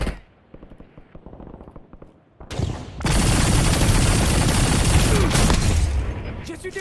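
Gunfire in the video game Call of Duty Warzone: scattered rapid shots, then a dense, loud burst of sustained automatic fire with booming impacts that tapers off near the end, with voices heard partway through.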